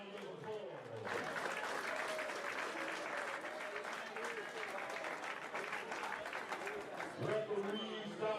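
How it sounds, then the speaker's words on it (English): A fight-night boxing crowd applauds two boxers, sustained clapping and cheering filling the arena with a swell near the end; an announcer's voice carries over it. "Let's give these two boxers another round of applause."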